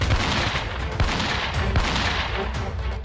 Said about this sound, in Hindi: सरेंडर की अपील अनसुनी कर आतंकी फायरिंग करने लगे